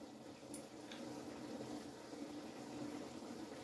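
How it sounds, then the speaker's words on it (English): Beaten eggs poured into an oil-sprayed frying pan give a steady, soft hiss and wet sizzle that runs evenly for a few seconds, with no talking over it. "So I'm gonna pour some of the eggs"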